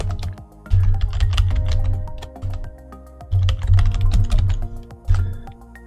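Fingers type a short folder name on a computer keyboard, with quick clusters of close key clicks and taps in bursts separated by short pauses, over a low background hum.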